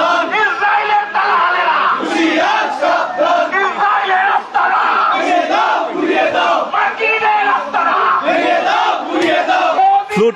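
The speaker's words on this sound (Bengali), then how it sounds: "তারা স্লোগান দিচ্ছিল ডোনাল্ড ট্রাম্প, নেতানিয়াহু সহ যারা রয়েছেন তাদের বিরুদ্ধে" A dense protest crowd in Dhaka's Dhanmondi area chants slogans continuously, loud and close, with many voices shouting together in steady rhythmic bursts throughout.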